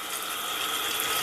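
Tap water runs steadily into a kitchen sink holding dirty dishes, a close, continuous bright hiss and splatter with no pauses.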